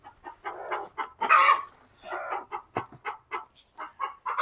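Chickens cluck in short, irregular bursts nearby in a laying shed, with several birds calling over one another at moderate volume.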